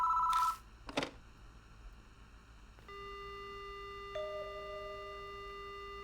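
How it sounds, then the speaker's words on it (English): A telephone rings in the horror video game Spirit Hunter: Death Mark: a short electronic ring burst and a sharp click, then a steady dial tone that drops in pitch partway, clean and loud with no voices. "The phone begins to ring."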